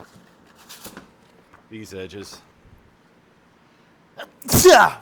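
A person sneezes once, loud and close, at the end, after brief quiet speech and faint workshop shuffling during a Telecaster guitar build.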